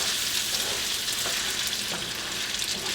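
Pasta for a seafood dish frying and being stirred in a pan, a steady bright sizzle with faint scraping strokes, close and unbroken, no voices.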